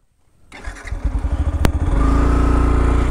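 Motorcycle engine sputtering to life, its rapid pulsing firing building quickly into a loud, steady running drone, close by and with no talk.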